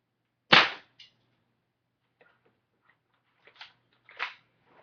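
An airsoft gun fires with one sharp, loud snap, then gives a few faint mechanical clicks as it is cocked and two more quieter pops. Nobody speaks.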